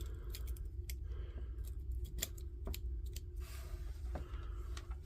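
A knife with a brand new blade cuts and trims a plastic tie at a power tool repair bench, giving a series of close, sharp snipping clicks at irregular intervals over a low steady hum.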